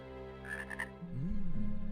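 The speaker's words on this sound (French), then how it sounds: "Oh, des grenouilles!" Frogs in a video game croak in deep, rhythmic pulses that grow steadier over the two seconds, heard over a sustained musical drone with a few high chimes early on.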